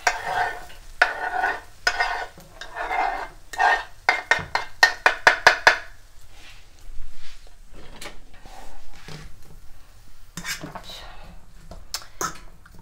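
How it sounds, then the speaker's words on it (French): Ham, shrimp and onions frying in a pan with a spatula scraping and stirring, including a quick burst of rapid strokes midway and some clinks of cookware, heard up close without talk. "je viens ajouter ma garniture, donc jambon, crevettes et oignons. Et je fais revenir ça quelques minutes"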